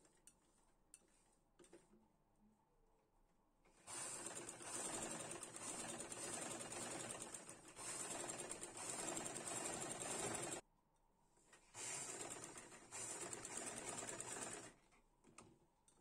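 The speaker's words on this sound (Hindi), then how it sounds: "सबसे पहले हम इसके आसन की सिलाई लगाएंगे" A sewing machine runs in two sustained bursts while stitching the seat seam of palazzo pants, with quiet pauses and faint handling sounds between the runs and no talking.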